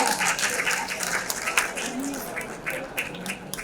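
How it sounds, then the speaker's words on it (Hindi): Applause rises from the audience at a women's honors award ceremony as an education honoree is called up, a moderate, continuous clapping with scattered voices underneath. "शुभा तिवारी जी के लिए जोरदार तालियां हो जाए।"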